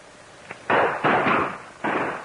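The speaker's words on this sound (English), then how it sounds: "when we hear the explosion, we'll start moving in" Hand grenade blasts go off at an ammunition supply dump in a 1935 war action serial. A small pop is followed by three loud, heavy crumps in close succession, each with a short ragged rumble.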